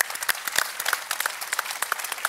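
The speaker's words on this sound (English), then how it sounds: "Give him a round of applause there, guys." A live audience claps for NASCAR Vice Chairman Mike Helton at a Chevrolet Camaro announcement, a short burst of steady, moderately loud applause from a room of people.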